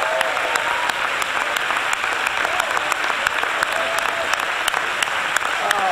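A church congregation applauds during an Easter weekend service, with dense, steady clapping from many people filling the room at an even loudness throughout.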